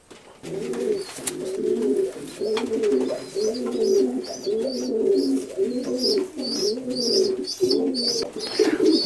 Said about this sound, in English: Here's a very beautiful pigeon.